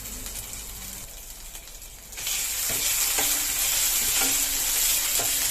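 Ginger frying in a pan for sweet tomato chutney: a quiet hiss that jumps to a loud, steady sizzle partway through, with a few soft scrapes of stirring.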